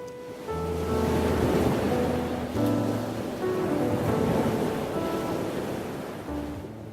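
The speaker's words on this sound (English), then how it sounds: "We hear the waves coming, they're not far away." Ocean surf rolling and crashing continuously, with steady broadband wash and wind, while a low musical drone plays underneath throughout.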